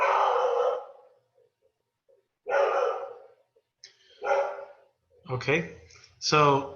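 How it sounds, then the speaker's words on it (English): A dog barks in the background as a mail carrier arrives, giving several separate bursts of barking with quiet gaps between them. A nearby voice starts talking at the end. "that's my dog in the background."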